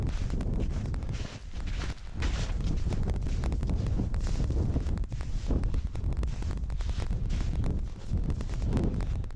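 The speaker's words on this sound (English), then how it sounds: "So the wind is not nearly as bad." Steady wind roars across a microphone on a hiking trail in Norway, a continuous loud rumbling buffet with gusts and no talking.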